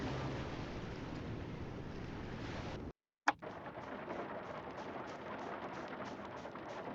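Rain in the video game Grimshire, a steady dense hiss that cuts out to silence for a moment, then returns after a sharp click and carries on evenly, with no voices.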